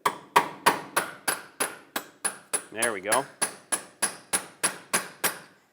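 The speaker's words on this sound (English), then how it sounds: "Use a punch and a hammer, tap it in." About sixteen sharp metallic hammer taps strike a punch in an even rhythm, close up, on a front lower ball joint of a 2008-2012 Honda Accord, with a person speaking briefly midway.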